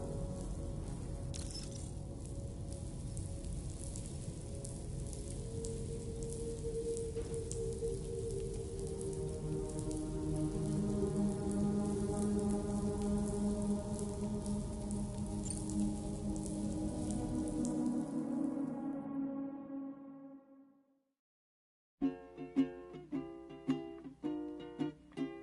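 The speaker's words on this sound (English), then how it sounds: "Raindrops are falling on my head" Steady rain pours in the video game Death Stranding 2, a dense hiss with a low musical drone beneath it for about eighteen seconds. It fades to near silence, then a few clear melodic notes enter alone.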